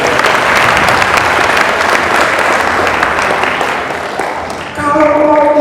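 Audience applause at a company family gathering for PT Indocipta Wisesa, steady and full for several seconds, then tapering off as a sustained musical tone or chord enters near the end.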